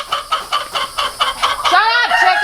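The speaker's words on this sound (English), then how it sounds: "Shut up, chicken!" A chicken on a goat farm clucks loudly and close by in a quick, rhythmic run of short clucks, ending in a longer, drawn-out squawk.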